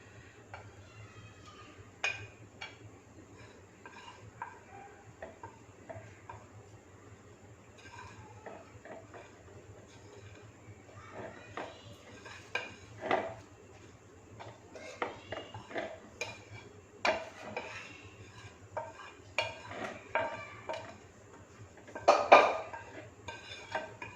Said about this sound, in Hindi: इसको बहुत अच्छी तरह हम चॉप करेंगे।